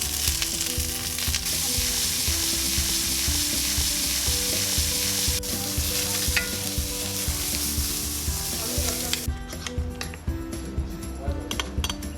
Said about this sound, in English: then we're gonna sear our asparagus